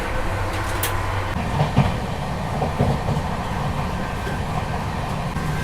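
The New Delhi–Patna Tejas Rajdhani Express, heard from inside a 3rd AC coach while passing Khurja Junction: a continuous rumbling run with rhythmic clickety-clack of wheels over rail joints.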